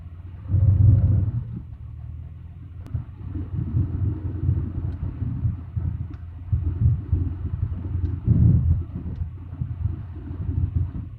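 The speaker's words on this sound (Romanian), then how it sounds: "o să fac verificare la magnetor la 3000, chiar dacă vibrează un pic." Light aircraft engine running up to 3000 rpm for a magneto check, a steady low rumbling drone with slight vibration and small swells in loudness throughout.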